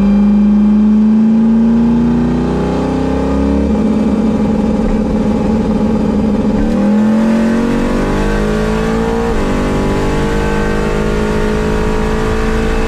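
A drag race car accelerating down the strip, its loud engine climbing in pitch through successive gear shifts, close and continuous over about thirteen seconds.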